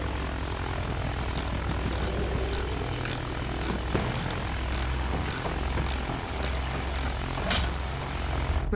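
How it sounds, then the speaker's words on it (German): Droning propeller engine of an enemy aircraft in Battlefield 1, a steady low rumble running throughout, with repeated sharp gunfire bursts cracking over it. "Feindliches Flugzeug!"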